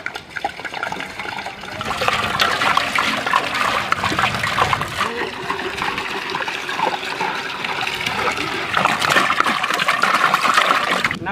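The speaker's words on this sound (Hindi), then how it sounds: "पानी।" Water pouring and splashing steadily into a pot or bowl while preparing crispy village-style French fries, a continuous close gush lasting several seconds.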